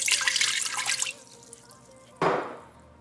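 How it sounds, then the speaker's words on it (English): Water pours into the inner pot of an Instant Pot with a steady splashing rush that fades, then a brief clatter or second splash as the pouring stops. "put 1 cup of water into the bottom of the pot."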